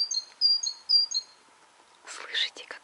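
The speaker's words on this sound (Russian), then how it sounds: "Слышите, как поет птичка?" A small bird sings a few bright, high chirping phrases close by at the start. Soft whispered talk follows.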